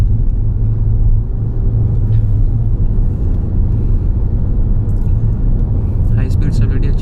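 A Toyota Urban Cruiser's petrol engine drones low and steady while the car drives, with constant road rumble filling the cabin. Someone talks over it.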